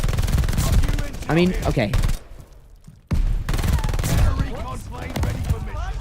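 A PPSh submachine gun in Call of Duty: Vanguard fires in fast, loud bursts of rattling shots, broken by a short pause, while a player talks between and over the bursts.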